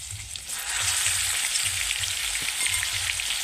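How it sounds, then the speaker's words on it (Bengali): Marinated chicken with ginger-garlic paste hitting hot white oil in a wok-style pan, a steady loud sizzle and fry that swells after a brief quieter start and holds continuously with no talking. "কড়াইতে দিয়ে দিলাম সাদা তেল এইবার দিয়ে দেব ম্যারিনেট করে রাখা চিকেন তার আগে দিয়ে দেব আদা রসুনের বাটা"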